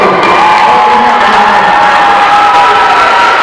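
Loud crowd at a high school event cheering and shouting continuously, with children's yells and whoops mixed in, close and sustained throughout.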